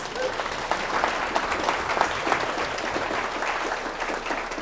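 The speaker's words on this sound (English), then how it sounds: "let's all give yourselves a round of applause for investing in yourselves" A room full of people claps steadily, a dense, even wash of applause that holds at the same level from start to finish.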